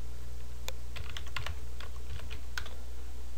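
Clusters of quick keystrokes on a computer keyboard as PHP code is typed, close clicky taps in short bursts over a steady low hum.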